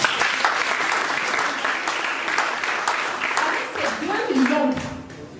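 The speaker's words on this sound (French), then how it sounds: "Applaudissez pour que je vous dise." A conference audience breaks into steady, fairly loud applause that runs for several seconds, and a voice begins speaking over it toward the end.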